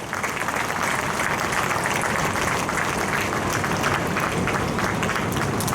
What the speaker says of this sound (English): One big round of applause for them, please.